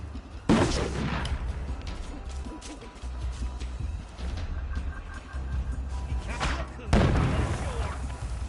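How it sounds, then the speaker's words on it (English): Video game bombing raid with explosions and gunfire, two loud crashing blasts over a constant low rumble and scattered shots, mixed with game noise and faint voices. "They're bombing us again!"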